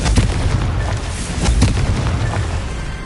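A Confringo spell explosion in the Hogwarts Legacy video game, heard as a loud, rumbling blast with crackling pops and booms that fills the whole short stretch.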